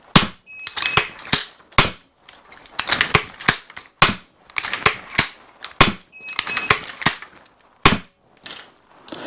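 A repeating crossbow with 120 lb limbs fires bolts in rapid succession, with sharp, loud snapping shots in quick bursts and mechanical clacks between them, close by.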